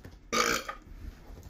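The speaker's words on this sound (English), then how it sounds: "Keep burping." A single loud, close burp lasting about a quarter second that trails off into quiet room noise.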